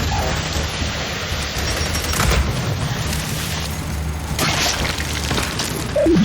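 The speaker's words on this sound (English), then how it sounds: "Throwing frag!" Frag grenade blasts and battle noise in the video game Gears 5, with a sustained rumbling wash, two sharper bursts around the middle and another loud hit at the end.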